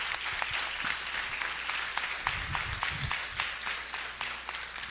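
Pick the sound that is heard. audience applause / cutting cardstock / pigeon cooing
audience applause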